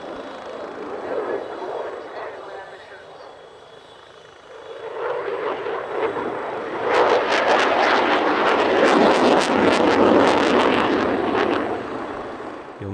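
An RAF Typhoon jet flies a display at an air show, its reheat building into a loud, roaring, crackling thrust that swells and then fades, heard from the crowd.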